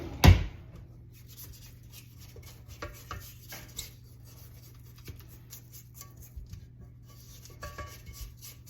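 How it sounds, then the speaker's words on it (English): A spatula scrapes the sides of a bowl of chocolate chip cookie dough, making soft, intermittent scraping and light knocks close by, opening with one sharp clack and then quiet scrapes without talk. "I'm going to scrape the sides down."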